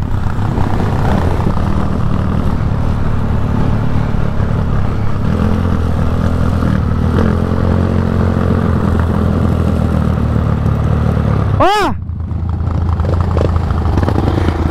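A Honda Fan motorcycle cruises on a highway with a continuous loud engine drone and wind rush. A brief sharp rising-and-falling whine cuts through near the end before the steady roar resumes.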